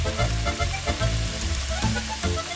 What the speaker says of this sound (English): Now we're adding some of our onions.